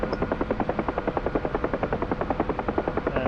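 Helicopter rotor beating steadily at a fast, even pulse as the engine is throttled straight up to full power, loud and close with no talking over it.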